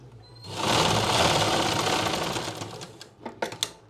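A sewing machine runs a long, steady burst of stitching on a pant seam, loud and close, then stops, followed by a few sharp handling clicks and knocks as the fabric is pulled free.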